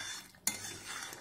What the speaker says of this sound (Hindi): एक बार बीच में इस तरह मिक्स कर देना है जिससे नीचे ये जमे नहीं